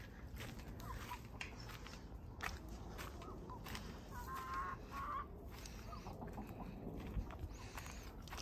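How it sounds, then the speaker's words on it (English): Chickens cluck softly while two flocks are being combined, scattered quiet clucks and brief calls over a faint, rustling background, distant and low in level. "I'm gonna go push this red chicken out of the way"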